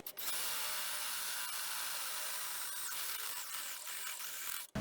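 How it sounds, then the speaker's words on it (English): A step drill bit bores through the plastic control panel of a snow blower, widening a hole to half an inch with a steady, high, whining grind that runs continuously and ends abruptly. "I'll bring in my step bit and open up the diameter of the hole to 1/2 inch"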